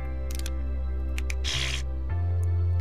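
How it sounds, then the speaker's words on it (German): A short, dry, hissy fart sound effect from the video game Scribblenauts Unlimited, lasting about a third of a second over steady background game music. "Das ist so ein tolles Furzgeräusch"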